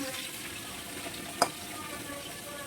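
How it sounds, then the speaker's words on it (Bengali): Potatoes fry in a pan on a home kitchen stove, giving a steady close sizzle and hiss with one brief sharp click partway through. "এক কাছে আলু ভাজা করতে বসিয়ে দিলাম"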